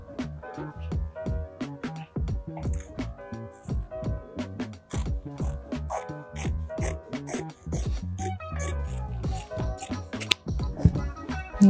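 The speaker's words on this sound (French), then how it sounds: "Ensuite, on va venir couper sur la ligne qu'on a tracée." Scissors cut through bed sheet fabric along a drawn line, making rapid, continuous crisp snips close up with a steady rhythm throughout.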